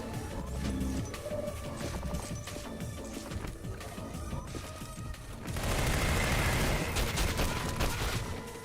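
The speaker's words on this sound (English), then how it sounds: "Oh, there's the rockets." Rockets fire and explode in a first-person shooter game set in a shadowy apartment, a dense run of crashing blasts and gunfire-like bursts that swells into a louder, sustained barrage partway through, with no speech.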